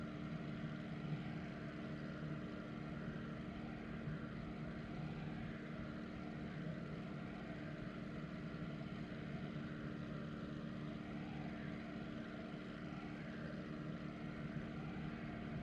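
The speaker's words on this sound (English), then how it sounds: "In the P-51 Mustang, I really do like the Mustang. It is a very, very fun plane to fly." A P-51 Mustang's propeller engine drones steadily in flight in a video game, a constant low, even hum with no voices over it.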